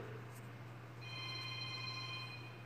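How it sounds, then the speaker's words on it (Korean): A mobile phone rings during a church sermon, heard as a faint, steady electronic ringtone of several sustained tones starting partway through, over a low constant hum in a quiet hall. "전화 좀 꺼요. 어디서 그러죠?"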